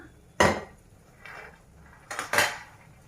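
Roasted peanuts are tipped from a pan onto a plate with three sharp clattering scrapes of metal on dishware, a loud one, a soft one, then a double clink, in an otherwise quiet kitchen.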